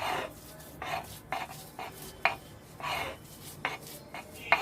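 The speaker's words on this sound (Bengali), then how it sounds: "ভর্তার জন্য পেঁয়াজ, এই পেঁয়াজ একটু আমরা হালকা করে বেটে নিচ্ছি যেন একটু নরম হয়।" Onion lightly mashed for a lau pata bharta, a firm utensil pressing and grinding in short distinct bursts roughly every half second, close and clear with sharp clinks between strokes, no talking.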